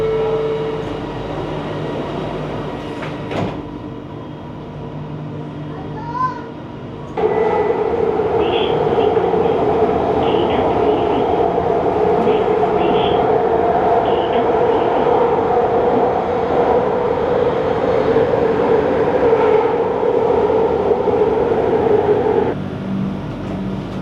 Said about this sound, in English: I wonder when my next train is coming.